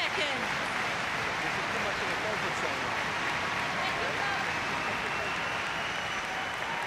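Crowd noise fills the arena at the 2014 Commonwealth Games women's singles badminton gold medal match, a dense, steady wash of chatter and applause-like roar lasting throughout, moderately distant, with a voice faintly over it.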